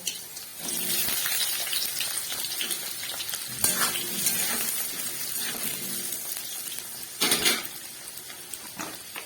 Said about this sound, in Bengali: আলুগুলোকে নুন হলুদ দিয়ে ভালো করে ভেজে নেব